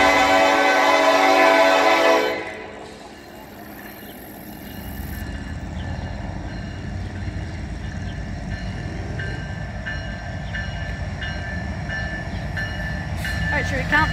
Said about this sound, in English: So is that what's coming right now? A big boy steam train?